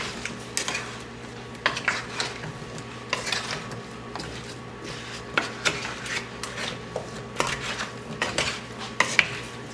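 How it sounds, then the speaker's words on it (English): Spoon scrapes and clinks against a pan while sweet potato pieces are stirred to coat them in butter, repeated close metallic taps and rubbing over a faint sizzle and hum. "I'm kind of just mixing around to get some of that butter onto all the pieces"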